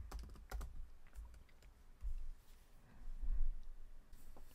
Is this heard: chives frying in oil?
no